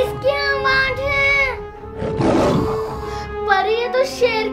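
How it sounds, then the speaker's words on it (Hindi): A short growling lion roar rises in the middle, framed by playful tonal music and squeaky character-like vocal sounds. "पर ये तो शेर की आवाज है।"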